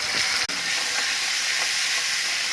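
Spices and onions fry in a pan for a banana-flower (mocha) curry, giving a steady, close, broadband sizzle that holds at an even level throughout, broken only by one brief dip.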